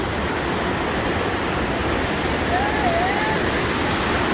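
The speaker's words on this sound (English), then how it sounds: "We got a bunch of bridges with the cascades." Calypso Cascades waterfall in Rocky Mountain National Park rushing beneath a footbridge, a loud, steady broadband roar filling the whole stretch, with a brief faint whistle-like tone partway through.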